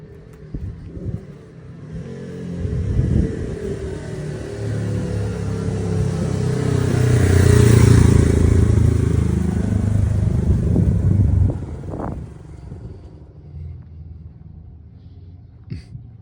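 A motorcycle passing on a rural road, its engine rumble growing louder, peaking close by and then fading away over several seconds.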